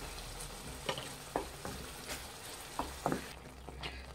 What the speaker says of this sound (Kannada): ಈಗ ಮಿಕ್ಸ್ ಮಾಡಿ